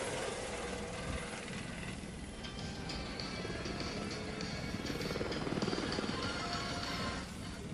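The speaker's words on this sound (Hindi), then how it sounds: "इस हेलीकॉप्टर ने उड़ान भर ली है" A helicopter carrying a political leader lifts off at a royal fort, giving a steady rotor drone with mechanical clatter that swells slightly toward the end, heard without talk.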